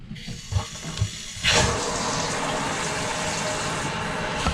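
A bidet toilet attachment is switched on, bringing a sudden steady rush of running water after a few knocks and clicks of handling, close and continuous with no talk.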